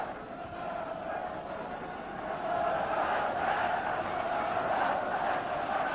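Home crowd at a 1974 football match between Villa and Bristol Rovers at Eastville Stadium, a steady broad roar that swells louder midway and holds, with no clear talk over it.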